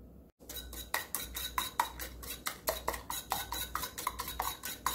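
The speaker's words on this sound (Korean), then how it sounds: "거품기로 부드럽게 풀어주세요. 아주 부드럽게 다 풀어줍니다." A whisk beats eggs and soft tofu in a bowl for a microwave steamed egg dish, giving steady rhythmic clinks and scraping against the bowl at close range, with no talk.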